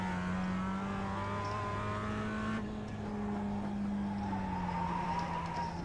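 Mazda race car in the iRacing simulator at Brands Hatch, its engine droning steadily at high revs with a pitch shift partway through, loud and continuous with no talking.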